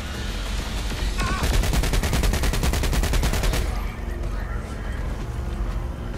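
Video game gunfire in Saints Row, a loud, fast automatic burst of rapid repeated shots lasting a couple of seconds, then fading into background rumble.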